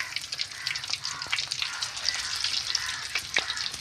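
Flattened rice snacks frying in hot oil in a kadai give a steady, close sizzle with crackling pops throughout, with no talk.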